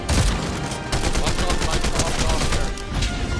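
Rapid automatic gunfire fills a Fortnite match, a dense, continuous burst of loud shots with a crackling rhythm that barely lets up.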